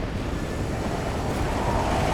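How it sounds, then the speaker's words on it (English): Strong wind blows hard across a bridge on a highway as a steady, loud rush of broadband roar with buffeting, unbroken and with no voices. "The wind is really blowing hard right there."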